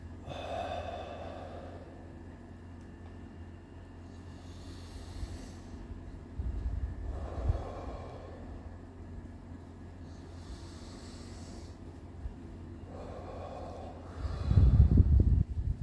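Slow, deep breaths during a winter cold-water bathing breathing exercise, three calm inhale-exhale cycles spaced several seconds apart over a low, steady background rumble, the last breath heavier and closer.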